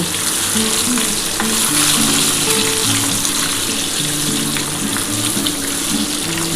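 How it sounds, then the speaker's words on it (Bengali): Loud, steady crackling sizzle of eggs rubbed with turmeric and salt frying in hot oil, heard close with constant popping spatter and slight swells in intensity. "একটু ডিমটা হালকা করে ভেজে নিলে খেতে ভালো লাগে।"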